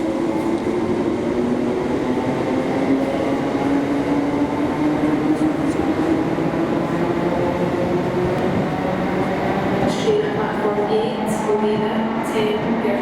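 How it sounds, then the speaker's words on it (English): A ScotRail Class 318 electric train at a Glasgow station gives a steady, loud rumble and motor whine that holds throughout, with brief higher clatter near the end and no talking. "It is a Class 318, like the oldest train in the ScotRail family."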